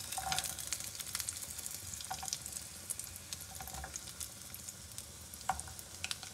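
Cashews and almonds roast together in a little oil for a chicken Kabuli pulao, a steady soft sizzle with scattered light crackles and pops, close but fairly quiet.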